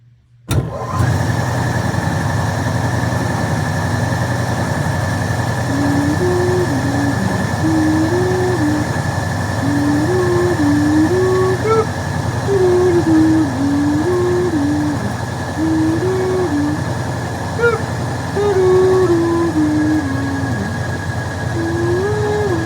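A 1966 Cadillac Eldorado cranks briefly and catches, then settles into a steady, loud, continuous idle with a faint wavering whine on top, running alone without talk.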